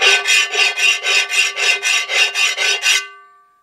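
A granite-coated pan is rubbed back and forth in about eleven even, rhythmic scraping strokes, loud and close, with no voices, before a short ringing tail as the pan settles.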